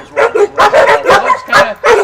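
Several dogs at a bird dog kennel bark and yip in quick succession, loud and close, a busy overlapping chorus of short sharp barks with some whiny notes.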